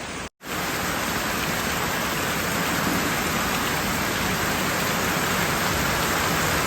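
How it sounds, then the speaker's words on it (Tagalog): Steady rain pours down on an evening at seven o'clock, a dense, even hiss that runs unbroken after a brief dropout at the very start, with no voices. "Umuulan."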